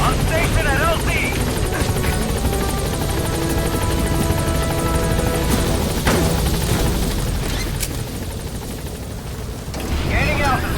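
B-Quad, a support helicopter in Metal Gear Solid V, arriving at a landing zone with a loud, continuous rotor thrum and engine whine close overhead, radio-style voices briefly breaking through the din.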